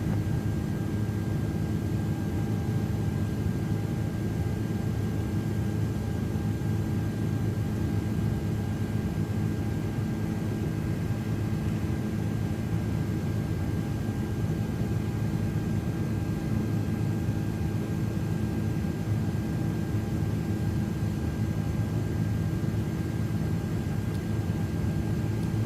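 iniBuilds A330-300 airliner climbing after takeoff in a flight simulator on a frosty morning, a steady, even cockpit engine drone and rushing air with a faint constant tone, unbroken throughout.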